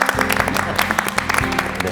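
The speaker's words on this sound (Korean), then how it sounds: "큰 박수로 환영하겠습니다." Studio audience applause welcoming a guest onto a Korean morning TV talk show, steady dense clapping filling the whole stretch at moderate loudness, with no talk over it.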